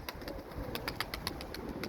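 Pet pigeons kept by a neighbourhood breeder in Esenler, Istanbul, cooing softly in repeated low pulses, fairly close but quiet, with faint rustling and no voices.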